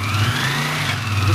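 Honda CX 500 Scrambler motorcycle engine running steadily on a test lap around a yard, a continuous mid-pitched drone held close and loud throughout the short stretch.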